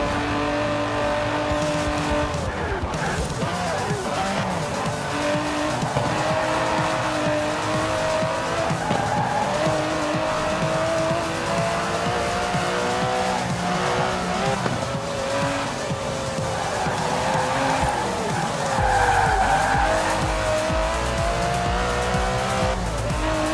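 Aston Martin DB11 racing in Forza Horizon 4, engine droning loudly with shifting pitch as tires squeal and skid repeatedly through corners, a continuous close game soundtrack with no talk.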